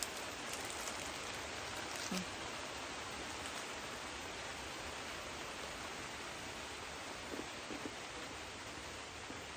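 Steady rain falls on a tomato garden in Benguet, a dense, even hiss of drops at moderate distance with a few faint close patters, continuing without a break.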